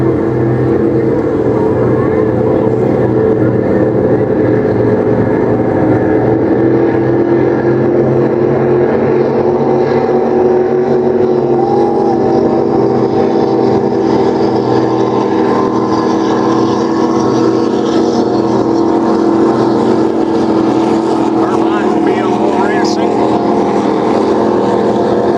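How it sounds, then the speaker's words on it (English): Class 3 offshore powerboats accelerating off a green-flag race start on the St. Clair River, a loud, sustained engine roar that swells steadily over about twenty-five seconds. "Here comes our Class 3 start. We've got a green flag and we're racing."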